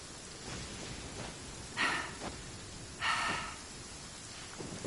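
Steady rain hisses through a Genshin Impact game scene, a soft even wash of noise with two short, louder swells of downpour partway through; no distinct thunder stands out.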